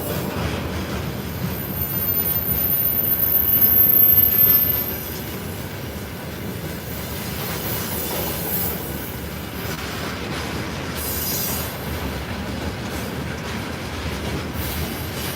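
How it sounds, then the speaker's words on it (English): A train runs along a railway line in Russia beside a cold, quiet fishing spot, its loud, steady rumble and rattle of wagons swelling to a peak early on, then rolling on evenly throughout, with no talking. "it sounds like a train. It's really train. That's why it's so loud."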